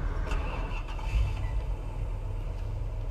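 A car engine turning over and idling in the Police Simulator: Patrol Officers game, a steady low rumble that continues throughout at moderate level with no talk over it.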